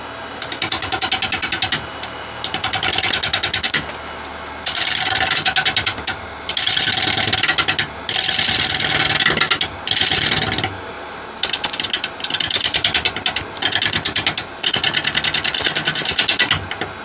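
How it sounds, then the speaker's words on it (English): Carbide tool cutting a large wood and concrete river bowl spinning on a lathe: loud, close, gritty scraping and rasping in repeated bursts of a second or two, separated by short pauses as the cut is taken. "I'm going to probably have to use a carbide here to flatten this off"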